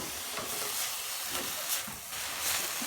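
Dodo, fried plantain, is stirred in a hot pan, giving a soft, steady sizzle and hiss with faint scraping strokes throughout. It sounds close and fairly quiet, with no talking.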